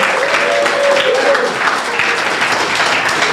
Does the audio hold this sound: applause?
yes